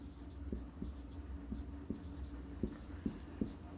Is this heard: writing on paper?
yes